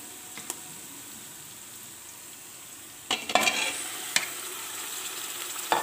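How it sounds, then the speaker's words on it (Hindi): Chicken pieces frying with softened, translucent onions in a pan, a low sizzle under stirring, with scraping spoon strokes and clatter growing busier toward the end. "और चिकन को अच्छे से भूनेंगे।"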